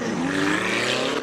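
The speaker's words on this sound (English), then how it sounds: "Currently watching Eugene Herbert in his Ford Mustang" Supercharged V8 Ford Mustang at a hill-climb speed event, a loud, steady engine roar held for a moment at close range.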